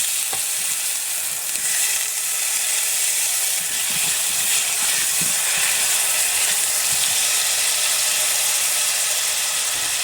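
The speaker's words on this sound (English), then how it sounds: "First thing we're going to do is add just a bit of butter. And we're going to throw in with that some chopped red onions." Chopped red onions fry in butter in a hot pan, giving a steady, close, hissing sizzle with occasional soft stirring clicks, and no talk.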